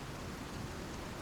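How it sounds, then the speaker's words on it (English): Rain in the survival video game Icarus, a steady, even hiss of falling drops that fills the short stretch without pauses or voices. "I haven't really noticed it rain down here"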